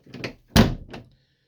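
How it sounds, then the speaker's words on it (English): On a Catalina 36 MkII sailboat, a cabin door to the bedroom gives a light knock, then one solid wooden thunk, and a softer bump follows within about a second and a half. "This door here goes through to the bedroom."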